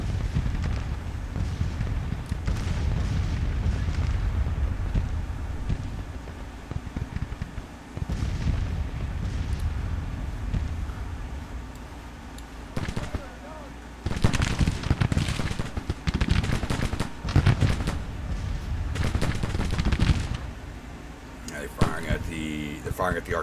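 Civil War infantry volleys fire in Grand Tactician, a dense rumbling barrage of gunfire with repeated sharp bursts and rolling booms, steady and loud throughout with heavier clustered shots in the second half.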